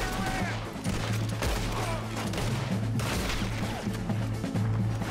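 Red Dead Redemption 2 shootout around Blackwater, a rapid series of close, loud gunshots over busy game noise, with a voice talking over the fire.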